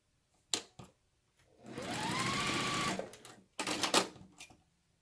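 A sewing machine runs a quarter-inch seam on a quilt block, one steady whirring burst of stitching lasting about a second and a half, framed by sharp clicks and fabric handling before and after.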